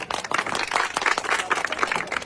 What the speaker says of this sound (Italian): Ma cosa applaudite? Ma perché?